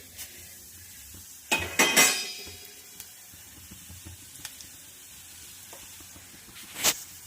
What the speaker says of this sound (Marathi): यामध्ये आपण घालणार आहोत जिरे, कुटलेले धने, बडीशोप आणि मोहरी